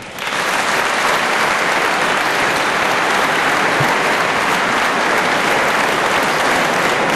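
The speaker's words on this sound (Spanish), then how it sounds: "Un aplauso, por favor." Loud, steady applause from a gala audience fills the room, rising almost at once and holding as dense continuous clapping throughout.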